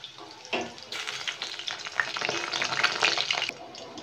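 Whole cinnamon, cloves and cardamom hit hot oil in a pan, bursting into a loud, close, crackling sizzle that continues with light stirring.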